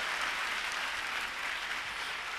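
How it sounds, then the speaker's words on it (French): An audience at a Friday night show fills the space with loud, dense, continuous applause for the riders, steady throughout with no voices over it. "On les applaudit très fort"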